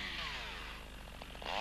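A chainsaw runs continuously while limbing branches from a felled trunk, a loud close buzzing whine that shifts pitch slightly as it cuts, with no talk.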